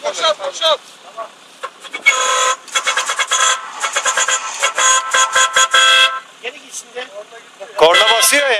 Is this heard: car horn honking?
yes